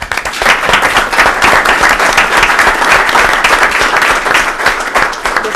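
Loud, steady applause from a city council meeting audience welcoming a visiting Boy Scout troop, dense clapping from many hands that runs unbroken for several seconds with no talk.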